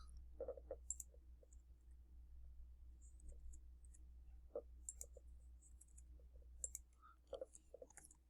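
Computer mouse clicking at a desk during programming work, scattered soft clicks at irregular intervals over a steady low hum, close and faint.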